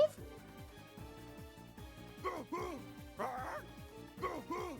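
A wolf in The Legend of Heroes: Trails from Zero repeatedly barks and snarls in sharp bursts over layered game music, with a voice speaking over the noise.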